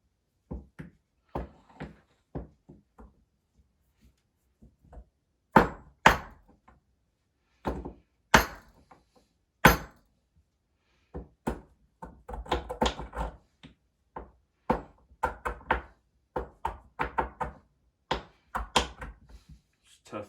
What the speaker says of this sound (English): Now it is time to grind it up with my mortar and pestle